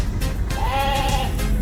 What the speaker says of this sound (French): on donne du foin aux brebis.